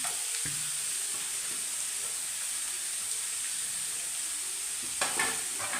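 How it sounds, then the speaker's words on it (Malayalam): Chopped taro leaves being stirred in sizzling oil in a pan, giving a steady, close frying hiss throughout, with a brief scrape of the spoon near the start and again toward the end. "നമുക്കൊന്ന് ഇളക്കാം, ഒന്ന് മിക്സാക്കാം എണ്ണയ്ക്കകത്തിട്ട്"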